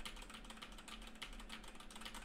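Keys pressed on a Razer computer keyboard, a steady run of fast, close clicky taps with no pauses, fairly quiet.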